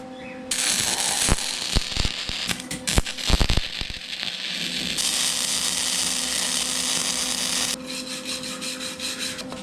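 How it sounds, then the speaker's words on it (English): Welding on a broken lawn mower intake manifold: a few sharp ticks and clicks at the start, then sustained, close crackling hiss in two long bursts with a short pause between, and no speech. "let's see if we can get some of this welded up"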